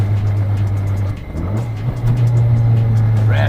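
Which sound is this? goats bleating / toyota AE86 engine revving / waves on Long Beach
toyota AE86 engine revving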